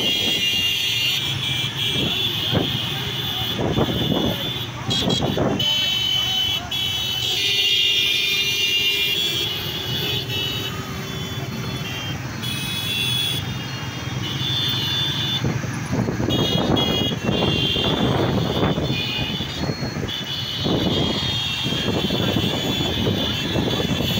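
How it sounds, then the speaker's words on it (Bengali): Engines of a huge motorcycle rally of political supporters heading toward Pangsha in Rajbari, a dense continuous roar from many bikes passing nearby with revving surges, horn-like tones and background crowd noise layered over it. "দেখেন বিশাল বড় মোটরসাইকেল র্যালি।"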